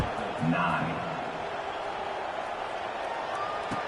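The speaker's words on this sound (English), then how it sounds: "this crowd now ready to get behind them" A stadium crowd at an SMU at Florida State college football game roars at kickoff, a broad, sustained wash of noise heard under a commentator's voice.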